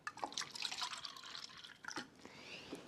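Kangen alkaline water, 11.5 strength, pouring and splashing in a soft, steady trickle with a few drips, close and fairly quiet, with no talking.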